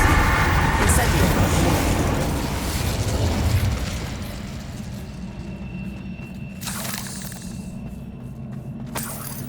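Spell blasts from Bombarda and Confringo in the Hogwarts Legacy video game, loud booming explosions in the opening seconds that fade into a lower rumbling roar, with scattered bursts and pops and spoken incantations over the action.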